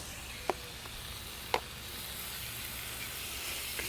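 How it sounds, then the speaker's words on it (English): Shaved beef hisses and sizzles in a hot pan with onions, a steady low frying hiss with two brief sharp clinks of a utensil against the pan. "We're going to go ahead and get that shaved beef going as well."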